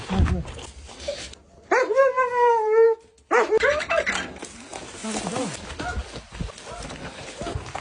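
An abandoned dog taken during an evacuation in Stanislav, Kherson region, gives a drawn-out whining yelp amid people talking, shuffling and handling noises nearby.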